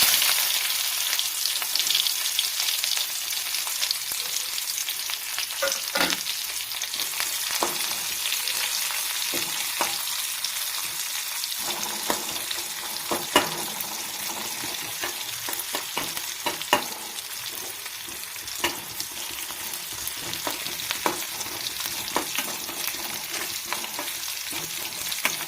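Shallots and mustard seeds fry in hot oil with a bright, constant sizzle, stirred now and then, and sharp popping crackles run throughout.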